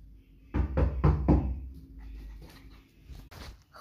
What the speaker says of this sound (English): Watch, I'll go knock on the door.